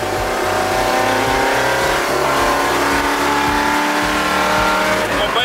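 Race car engine revving loudly and close, a steady high-powered roar with rising and falling throttle pulses throughout, a few faint voices underneath.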